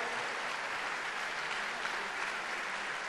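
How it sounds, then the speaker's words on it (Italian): Loud, dense applause fills a large arena at a Lega Nord party gathering for governor Luca Zaia, a steady wall of clapping from a big crowd without pause. "un applauso per lui"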